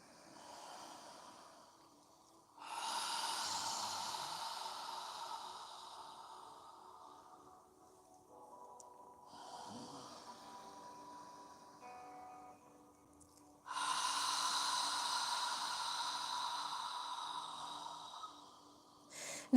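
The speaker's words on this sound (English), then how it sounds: "Imagine you're fogging a mirror with your breath on the exhale." Slow, deliberate mouth exhales during a yoga breathing exercise, soft and breathy like fogging a mirror: two long airy outbreaths with quieter pauses and inhales between them, close and alone in a quiet room.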